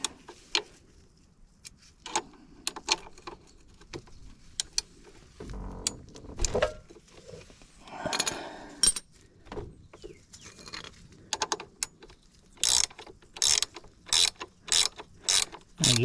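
Wrench breaking loose and turning a nut on the kickstand of a 2024 Honda CRF300L, with scattered clicks and rustling handling, then a run of rapid, evenly spaced ratchet clicks near the end, close up and with no talking.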